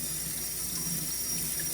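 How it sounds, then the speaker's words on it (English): Fresh tap water runs steadily into a sink as fish are rinsed, a constant close hiss and splash with no voices. "I'm going to wash them with fresh water"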